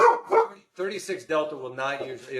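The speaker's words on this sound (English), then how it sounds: "Sorry about the dogs, you guys." Dogs barking and yipping indoors in two quick yaps, then whiny tonal vocalizing, with someone talking over them throughout.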